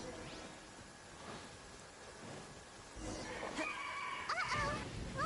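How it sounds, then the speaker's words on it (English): A lightning storm rolls through the video game Genshin Impact, with steady rain hiss and a low thunder rumble that swells louder near the end, mixed with a few brief game sounds. "Uh-oh! Lightning storm!"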